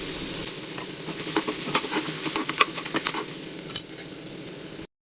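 Curry leaves sautéed with a small tomato in a pan, a steady bright sizzle with repeated scraping stirs of a spatula, close and continuous, cutting off abruptly at the end.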